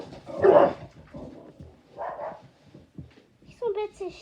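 Dogs in a home bark a few times over about four seconds, a loud bark followed by quieter yips and whimpers, while someone talks in French over them.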